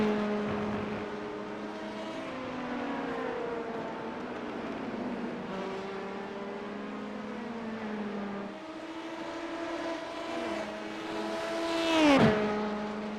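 LMP2 prototype race car engines in the iRacing sim during an IMSA race, a sustained high engine note rising and shifting through gear changes, with another car's whine swelling and sweeping past near the end.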